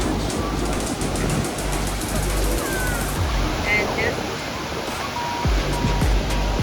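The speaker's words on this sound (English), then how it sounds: "The sun is now out and the waves are massive." Large waves roll and break on a Lake Erie beach at Sherkston Shores, a continuous loud wash of surf as a person speaks briefly over it.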